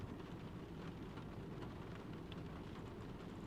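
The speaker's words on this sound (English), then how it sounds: "Anyway, enjoy the rain." Rain falls in a quiet, steady wash with a low rumbling undertone, faint and continuous with no voices.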